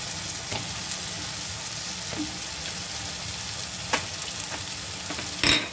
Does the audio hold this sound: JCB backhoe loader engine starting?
no